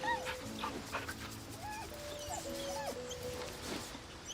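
A dog in the video game Baldur's Gate whimpers and yips softly while being petted, a few short whines over quiet ambient background.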